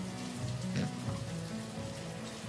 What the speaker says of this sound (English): All right, it's raining again.